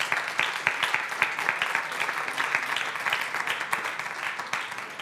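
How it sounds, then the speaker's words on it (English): Audience at a lecture on climate change and food applauding a speaker as he is welcomed, steady dense clapping from a seated crowd, moderately loud and alone. "Please give him an applause."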